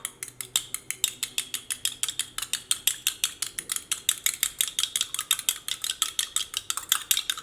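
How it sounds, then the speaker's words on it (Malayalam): Steady, rapid rhythmic scraping and clinking of a spoon stirring ingredients with salt in a bowl for a broccoli breakfast recipe, close and fairly quiet with no talk. "ഇതെല്ലാം കൂടിയിട്ടൊന്ന് മിക്സ് ചെയ്യാം."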